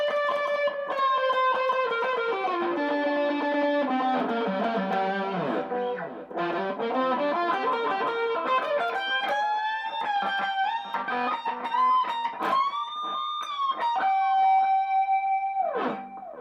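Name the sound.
guitar amp preset with delay and reverb, Nu X amplifier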